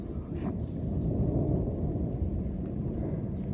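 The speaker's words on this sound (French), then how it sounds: "C'est le troisième orage qui passe, là." Loud, continuous low rumbling thunder from a violent electrical thunderstorm over Clermont-Ferrand, Auvergne, rolling steadily without a break and filling the whole stretch.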